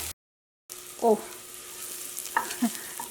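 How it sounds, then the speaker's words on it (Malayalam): Turmeric powder fries with sautéed onions in a pan, a soft sizzling hiss that begins after a brief silent gap, with a few short clinks and bumps over it. "ഇനി മഞ്ഞൾപ്പൊടി ഞാൻ അത് കിടന്നിട്ട് നന്നായിട്ട് മൊരിയട്ടെ"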